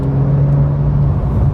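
A rear-wheel-drive Porsche 911 climbs a hill under steady acceleration, its engine giving a loud, continuous low drone heard from inside the car.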